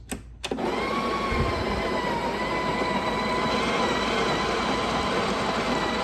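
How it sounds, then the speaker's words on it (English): A Breville BES870XL espresso machine grinds coffee beans. After a brief click at the start, a steady, fairly loud whir continues without a break. "You just simply push in and it'll start grinding."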